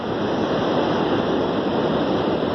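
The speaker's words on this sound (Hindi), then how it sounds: "बहुत तेज़ वेव्स आ रही है आपको" Strong ocean waves surge at Kelingking Beach on Nusa Penida, Bali, making a loud, continuous roar of surf without a break.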